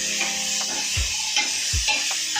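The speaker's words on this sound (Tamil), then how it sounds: "1 நிமிஷம் அளவுக்கு இந்த காய் நல்லா வதங்கட்டும்." Cut drumstick and carrot pieces sautéing in a hot pan for hotel-style idli sambar, a constant bright sizzle broken by a few low knocks and scrapes of a spoon stirring, close by and with no talking.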